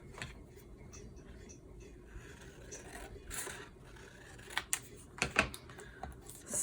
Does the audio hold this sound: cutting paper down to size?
yes